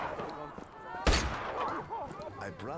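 Gunfire in the open-world action game Just Cause 3, one sharp loud shot standing out amid game ambience, with a voice talking over it.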